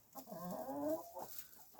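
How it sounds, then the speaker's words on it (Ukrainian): Chickens cluck softly in a short burst, a low warbling murmur from a flock of about forty hens and three roosters nearby, with no talking. "Тут у мене три петуха і щось за 40 курей до 40 курей."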